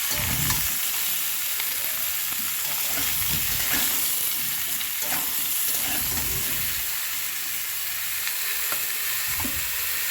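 Vegetables and four green chillies sizzle in hot oil in a pan, a steady frying hiss with intermittent scraping stirs close by throughout, no voices.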